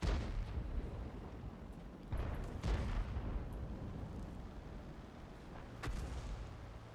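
Distant artillery fire in the war game Project CW, a few muffled thuds and booms over a low rumbling background, quiet and far off with no talk.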